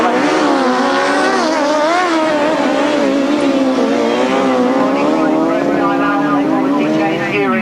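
1000cc grasstrack sidecar racers roar down a back straight, their engines a loud, continuous, wavering howl with rising and falling pitch. A commentator talks over the noise.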